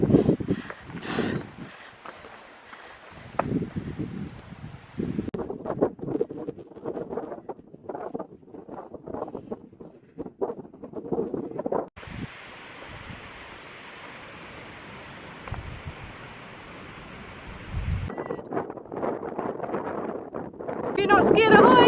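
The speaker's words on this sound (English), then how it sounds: "It's windy." Wind gusts buffet the microphone at a high point on a hiking trail along the Heysen Trail, a steady loud roar with broadband rushing, while people talk intermittently over it.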